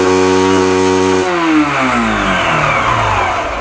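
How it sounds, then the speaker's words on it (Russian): Yamaha YBR 125 motorcycle engine after major service, held at high revs and then dropping off as the throttle is released, the pitch falling steadily, loud and close with no talk. "Теперь его нету, мотор крутится в бесконечность просто"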